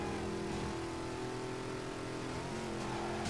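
Car engine revving hard and holding high in first gear in the racing video game Midnight Club 3: DUB Edition Remix, a loud steady drone with a slight pitch shift near the end.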